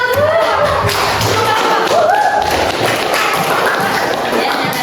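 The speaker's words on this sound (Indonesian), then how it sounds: "Tepuk tangan semuanya" Sustained clapping from a classroom of students after group presentations, loud and continuous, with a teacher's voice and students talking over it.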